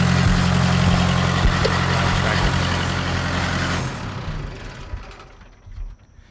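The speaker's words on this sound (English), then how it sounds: "Is that a lawnmower in the back? No, it's a tractor." A tractor engine runs steadily in the background, a loud continuous low idling drone with a mechanical hum that holds for about four seconds, then cuts out and fades to quiet.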